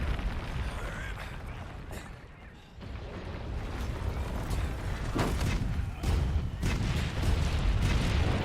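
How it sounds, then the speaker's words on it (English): Cannons fire during a monster fight in Monster Hunter World: Iceborne, with several heavy booms cracking over a constant roar of battle noise and rumbling effects. "there goes another cannon"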